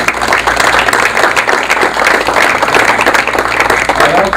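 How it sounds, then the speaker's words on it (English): An audience applauds, a steady dense patter of many hands clapping continuously throughout at a fairly loud level, with faint speech mixed in underneath. "if we can give him another round of applause"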